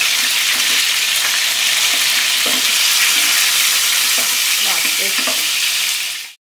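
Chicken leg pieces frying in hot oil, a loud, dense, continuous sizzle with scattered stirring clatters, cutting off abruptly at the end.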